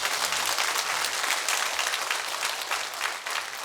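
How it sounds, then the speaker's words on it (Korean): A church congregation at a Korean new-life revival service applauds together in a dense, steady roar of clapping that holds loud and even for several seconds, with no voices over it. "우리 하나님께 영광의 박수 올려드리겠습니다."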